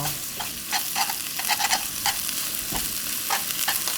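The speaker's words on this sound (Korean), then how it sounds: "고기가 골고루 익게끔 튀겨주세요." Pork for spicy stir-fried jeyuk bokkeum fries over high heat, a steady loud sizzle broken by repeated scraping stirs in the pan, with no voices over it.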